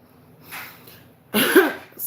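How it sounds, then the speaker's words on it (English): A single cough from a woman, a short harsh burst preceded by a softer breathy sound, heard close and alone. "I feel like I got a cough"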